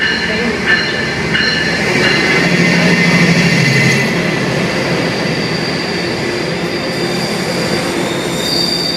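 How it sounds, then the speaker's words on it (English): A train arrives at Westwood station, its wheels squealing and railcars rumbling in a loud, continuous roar close by, with no one talking. "Train approaching. Please remain behind the yellow line."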